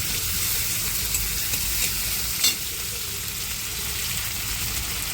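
Soft cooked tomatoes sizzling in a pan for fish-head lentil dal as ginger paste goes in, a constant close frying hiss with light stirring and one brief clatter, no speech.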